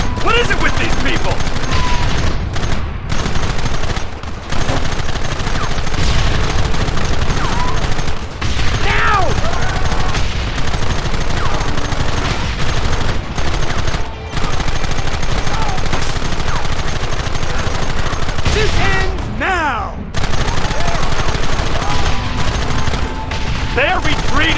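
Dense gunfire fills a Red Dead Redemption gun battle, with rapid overlapping shots and bursts continuing almost without pause, loud and close, with some voices shouting among the shots.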